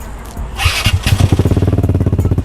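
A Vespa GTV 300 scooter engine cranks and catches, then settles into a loud, throaty, rapidly pulsing idle from an open exhaust with its baffle removed, close up.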